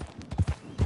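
Hoofbeats of a horse in the video game Red Dead Redemption 2, a short run of soft, heavy clip-clop thuds in quick rhythm, close and fairly loud with no talk.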